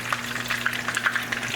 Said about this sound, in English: Let's go look at the lumpia that she's frying up